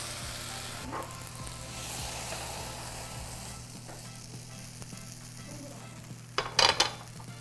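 Webfoot octopus and cabbage sizzle steadily while being stir-fried in a pan, a continuous close frying hiss with occasional utensil scrapes and a brief clatter near the end.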